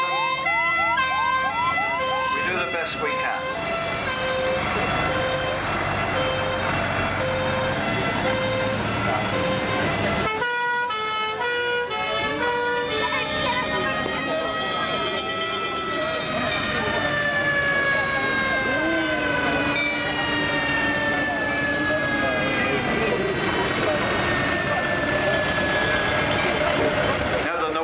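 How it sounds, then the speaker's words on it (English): At a transport rally, a 1971 Range Rover ambulance sounds a loud wailing siren alongside horn toots, the pitch sweeping continuously close by while a person talks over it briefly. "It was the 1971 Range Rover ambulance."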